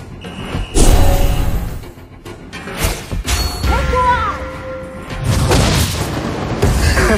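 Loud booming explosions and crashing impacts from the Mobile Legends: Bang Bang mobile battle game, repeated bursts over about seven seconds mixed with game effects and a faint voice line.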